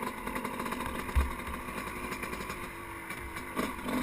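A dirt bike engine idles and revs steadily nearby during a wheelie attempt, with a brief louder throttle blip partway through and another near the end.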